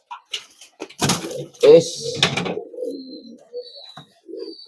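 A pigeon coos in low, rounded murmurs, fairly close, mixed with brief bumps and flutters near the start.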